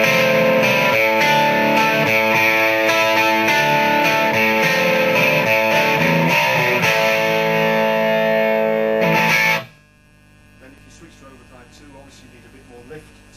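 Electric guitar through a Marshall amp on overdrive channel 1 with the gain about a third up, giving a vintage low-gain crunch: continuous strummed chords for about nine seconds, then a sudden cut to quiet, faint hum.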